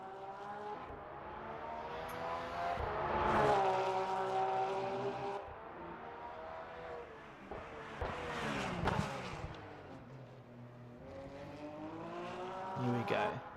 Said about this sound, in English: Doesn't that Porsche just sound beautiful?